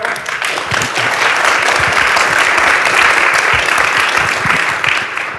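Audience at a cannabis genetics and breeding conference panel in Berlin claps steadily in dense applause that swells and holds, then tapers slightly at the end, loud and close with no speech.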